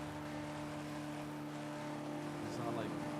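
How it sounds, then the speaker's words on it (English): A car in a GTA roleplay game cruises in seventh gear, its engine holding a steady, moderately loud drone with smooth, even tone throughout, with faint voices in the background. "I actually quite like this car in 7th gear. It's not too loud, but it still sounds nice."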